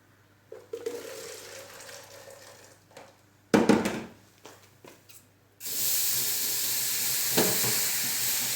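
Hot water splashes into a baking pan at the bottom of a hot oven while French bread bakes, the pour opening in a loud burst and then settling into a steady, broad hiss of sizzling steam that carries on to the end.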